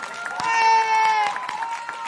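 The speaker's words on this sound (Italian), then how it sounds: "Sentite gli urletti." A festival audience in Romagna cheers with little high-pitched screams and whoops over scattered clapping, a sustained shrill squeal rising and fading in the middle.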